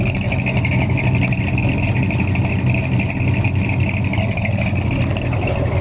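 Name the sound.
1963.5 Ford Galaxie 500XL engine idling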